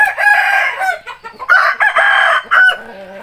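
Young roosters on a chicken farm crow repeatedly in strained, uneven bursts, with clucking between the calls, loud and close with no talk over them.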